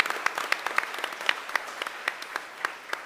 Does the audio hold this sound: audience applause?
yes